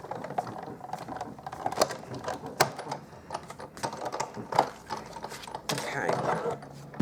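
A Stampin' Up embossing machine is hand-cranked as card stock feeds through, giving irregular ratcheting clicks and mechanical clatter close by, with a voice heard faintly at moments.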